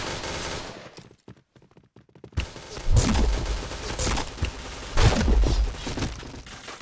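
Gunfire in the game Point Blank comes as rapid automatic bursts and sharp cracks, loud and close, following a brief quiet gap and continuing in dense volleys.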